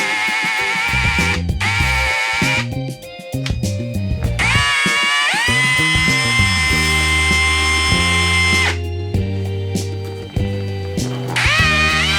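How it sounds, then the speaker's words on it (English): A power drill whines loudly in long bursts, its pitch rising and sagging as the bit bites into a hard metal stud on a marine battery, with brief pauses between runs. "or this is a crappy drill bit"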